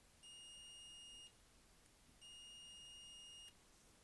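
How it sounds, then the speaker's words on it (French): A multimeter continuity tester gives two long steady electronic beeps of about a second each, separated by a short gap, clear and close in a quiet room with no speech. "On va tester tout d'abord si les bips sonneurs fonctionnent"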